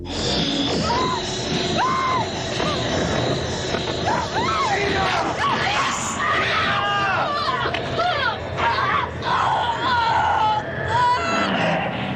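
A woman screams in a bloody horror movie scene, her voice rising in repeated anguished, pained cries over a loud, dense background of groans and noise, sustained for the whole stretch.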